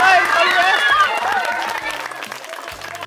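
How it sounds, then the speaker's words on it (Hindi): An audience claps loudly at a live matka-breaking challenge event, the dense applause running steadily throughout with crowd chatter and voices mixed in. "चलिए जोरदार ताली मारिए।"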